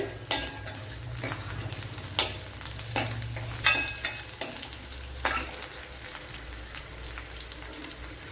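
Cumin seeds fry in a pan for a brinjal recipe, with soft sizzling and a string of sharp crackling pops and spoon scrapes at an uneven rhythm.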